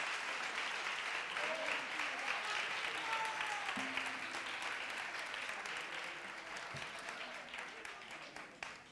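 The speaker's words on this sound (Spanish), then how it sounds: "Fuerte el aplauso para ellos." An audience at a gala event applauds a group of performers with sustained, even clapping. A few faint voices are audible underneath, and the sound tapers off slightly toward the end.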